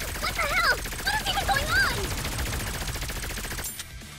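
Rapid gunfire in the video game Goddess of Victory: Nikke, dense repeated shots rattling steadily under game voices and effects, fading out near the end.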